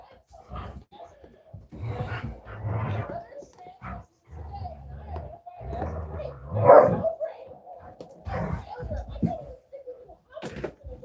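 Dogs playing indoors give short barks and scuffling bursts, mixed with a person talking loudly over them and a louder bark cluster midway.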